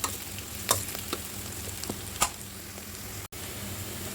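Onions and green chillies fry in a pan for tomato chutney, a steady close sizzle with a few sharp clicks of a spoon against the pan, no speech.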